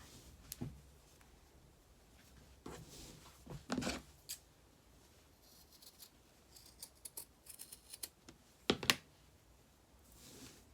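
Scissors snip through a sock while making a sock bunny, scattered crisp cutting clicks with a few louder bursts of several quick snips between quiet pauses, close by with no talking.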